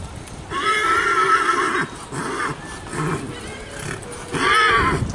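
Horses whinny loudly in a few separate bursts during a show class, one near the start and another toward the end, with hoof sounds and background noise between.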